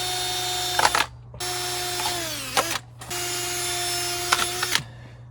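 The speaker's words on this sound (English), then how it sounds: "I'm just gonna drill in here." A power drill whines in three long, steady bursts with brief pauses between them, close and loud, its pitch dipping under load as the bit bites into the material.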